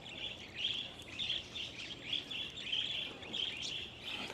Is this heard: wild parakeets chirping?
yes